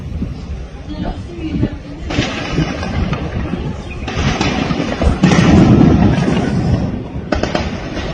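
Gunfire during a coup in Conakry, Guinea: several sharp bangs ring out at intervals over a noisy outdoor background, with voices talking loudly throughout.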